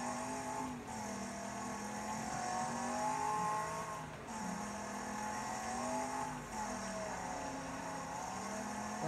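Stock car engine in the Wreckfest racing game, a steady droning motor with wavering pitch and repeated revving, plus a tire squeal, continuous and fairly close with no talk.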